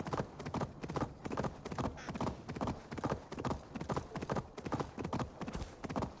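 A horse gallops in Assassin's Creed Valhalla with steady, rhythmic clip-clop hoofbeats that stay close and even throughout, with no talking over them.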